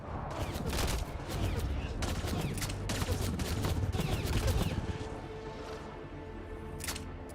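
Bursts of gunfire crack repeatedly in the video game Mass Effect: Andromeda, loud clusters of rapid shots in an intense firefight that trail off toward the end.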